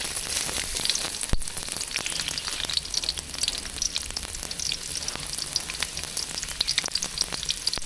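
Chopped onions hit hot oil in a pan, which was heated for frying raw banana peel, and give a steady close sizzling crackle with a sharp clatter near the start and no voices.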